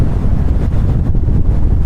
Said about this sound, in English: Holy moly, it's windy.